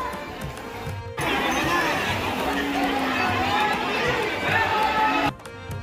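A dense crowd of devotees at Shyam Kund near the Khatu Shyam temple in Rajasthan, producing loud, continuous mingled chatter, shuffling and clatter close by, fading briefly at the start and end.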